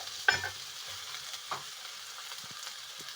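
Grated coconut, garlic, green chili and curry leaves being stirred in a hot pan for a small-sardine dish: a few soft scraping strokes over a faint, quiet sizzle, close by and without talk.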